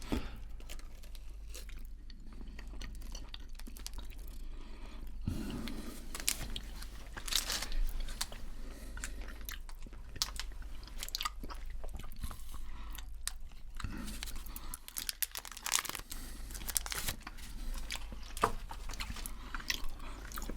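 A Mars bar of rich chocolate is bitten and chewed up close, with soft crunching bites and sticky mastication repeating irregularly over a quiet background, no talking.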